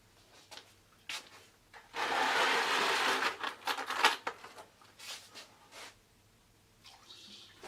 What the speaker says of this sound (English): now all we have to do is fill it with water